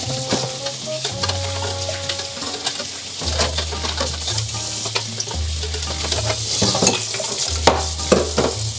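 Disassembled Xiaomi electric fan parts, including blades and a dirty filter, being rinsed under clean running water, giving a continuous hiss and splash with occasional clatter, over steady background music tones.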